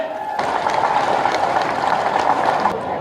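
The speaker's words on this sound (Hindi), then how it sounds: "मैं चाहूंगा एक बार इस प्यार के लिए खड़े होकर ताली बजाएं, अभिवादन करें।" Audience applause at an outdoor election campaign rally in Jhajjar, Haryana, a dense sustained crowd clapping that bursts in after a brief lull and continues steadily throughout.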